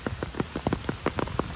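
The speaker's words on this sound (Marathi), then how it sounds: "पाऊस आलाय" Rain patters onto a hard surface in a quick, irregular series of close, distinct drops, with no voices.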